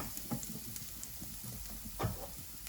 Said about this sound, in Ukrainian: Тепер на розігріту сковорідку додаю часник. І буквально декілька секунд його обсмажую